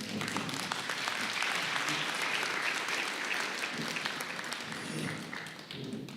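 A conference audience at a renal care plenary gives sustained applause, a dense, steady clatter of many hands filling the hall throughout, fading slightly near the end.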